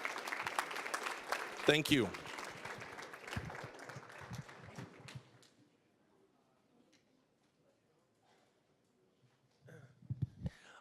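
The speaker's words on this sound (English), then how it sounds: "Can you guys give them a round of applause" Applause from a crowd at a World Peace Day event fills the first half, then dies away into near silence before a voice speaks briefly at the end.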